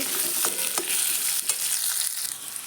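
Carrot and pumpkin sizzle steadily in hot oil, a dense continuous crackle with a few scraping stirs, no voices.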